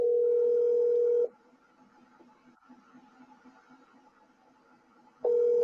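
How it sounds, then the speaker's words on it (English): A phone's outgoing WhatsApp call ringback, a steady electronic tone that sounds for about a second, falls silent for several seconds, then sounds again, clear and close. "But I'm calling him on WhatsApp, you know."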